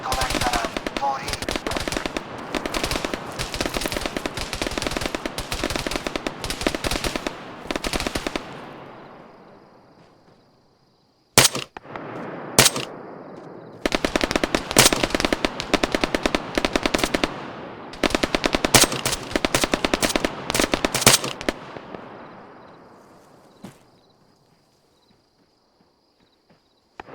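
Machine gun fire in Arma 3 rattles in long, loud, rapid bursts of sharp cracks, pausing briefly between volleys and trailing off into fading echoes near the end.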